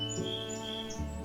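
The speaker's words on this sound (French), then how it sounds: "Et le chant des oiseaux." Birds sing close by in an outdoor Québec setting, with steady, overlapping chirps and whistled notes running through the whole short stretch alongside a low background hum.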